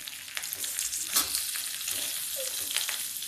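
Boiled potatoes fry in a pan for a fasting-day potato dish, giving a continuous loud sizzle with occasional stirring scrapes and pops close by.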